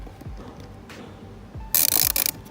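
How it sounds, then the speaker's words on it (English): A 5/8 deep socket wrench ratcheting to loosen the spark plug on a Troy-Bilt string trimmer, a series of quick ratchet clicks in short bursts, close, ending in a brief louder metallic rattle. "carefully loosen that out of there"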